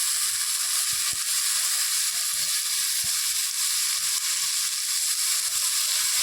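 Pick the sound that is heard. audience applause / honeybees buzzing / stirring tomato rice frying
stirring tomato rice frying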